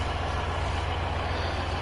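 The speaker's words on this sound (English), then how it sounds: "Chase them with the tractor, the boars." A tractor engine in the farming video game Professional Farming 2017 drones at a steady, loud low rumble, heard alone for a couple of seconds.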